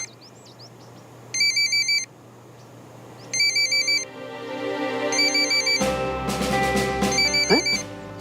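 An electronic phone ringtone sounds in repeated short, beeping bursts, four rings spaced a second or two apart, over soft background music that thickens toward the end.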